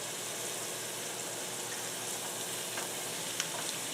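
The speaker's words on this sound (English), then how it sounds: "we're going to cook these french fries" French fries frying in shallow grease in a pan on a stove, a dense, steady crackling sizzle with small pops, close and continuous with no voices.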